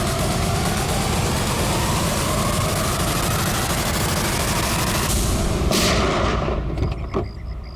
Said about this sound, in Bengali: নাও রিভলভার আর চালাও গুলি।